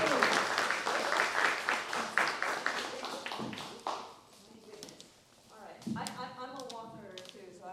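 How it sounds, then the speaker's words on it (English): Audience applause for Dr. Jinda at a talk on vaccine hesitancy in the Black community. The clapping is fairly faint and spread out over the first few seconds, then a single voice speaks. "please give another round of applause for Dr. Jinda."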